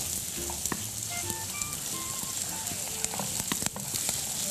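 Peas and onion frying in a pan give a continuous close sizzle with light stirring clicks, while faint tonal sounds and background kitchen noise run beneath.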